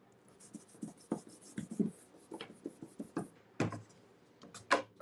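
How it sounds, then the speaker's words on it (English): Pencil eraser rubbing back and forth across comic art paper in short scrubbing strokes, close and fairly quiet, with occasional louder bursts of friction and no talking. "I'll go ahead and erase that line."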